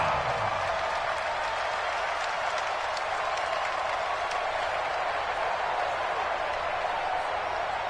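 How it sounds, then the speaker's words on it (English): Crowd noise in an American football video game on PS4 builds ahead of a big third down, a steady, dense roar of cheering and applause that holds for the whole stretch, with no talk over it. "the crowd getting into it as we come up on a big 3rd down"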